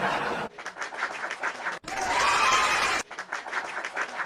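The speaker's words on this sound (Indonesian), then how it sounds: "Tepuk tangan dulu dong Kak Rida." Audience applause in a studio discussion room, bursts of clapping broken by short pauses, with a louder, denser wash of sound in the middle.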